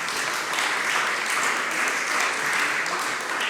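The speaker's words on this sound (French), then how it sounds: "on l'applaudit" An audience at a hospital rankings event claps to welcome a guest, a steady, dense round of applause held at even loudness for a few seconds without speech.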